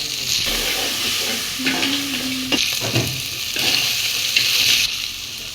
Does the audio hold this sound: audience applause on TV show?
no